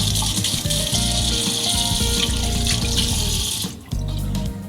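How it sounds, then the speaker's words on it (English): A tap runs steadily into a sink while hands are washed under the stream, close and loud, with the flow briefly interrupted near the end before it resumes. "But first, I gotta wash my hands."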